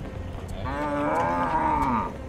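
A single long, drawn-out cow moo rings out close and clear at a livestock market in Negros, standing alone over a low murmur of background market noise.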